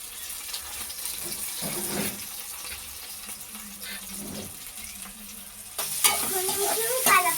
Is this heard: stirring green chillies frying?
yes